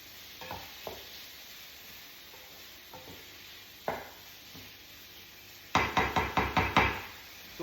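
Chicken and chorizo cook in a pan, giving a soft background sizzle broken by scattered scrapes and taps, then a quick run of about six sharp utensil knocks near the end, with no talking.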